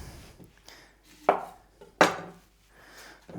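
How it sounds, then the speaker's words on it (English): An onion cut finely with a knife on a cutting board: a few separate sharp chops with quiet gaps between them, close and clear, with no voices. "I'm going to cut this onion nice and fine for my coleslaw."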